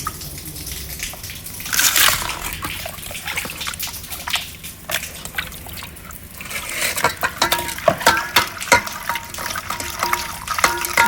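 Kilanga fish are rubbed with turmeric and washed in a vessel of water, giving close, irregular sloshing, splashing and swishing that grows busier and louder toward the end.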